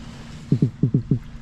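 Five deep, croaking thumps from a black drum fish, in two quick clusters, each a short resonant knock against a quiet watery background.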